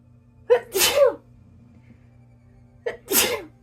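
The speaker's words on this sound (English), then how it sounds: "Oh, excuse me, I'm going to sneeze." Two sneezes close by, each a quick inhale followed by a sharp burst, about two and a half seconds apart.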